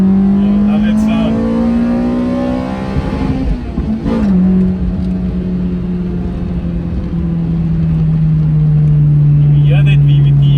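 A Toyota Altezza's 3S-GE engine drones loudly, its pitch climbing as the VVT engages then dropping and settling into a steady higher hum, close and continuous.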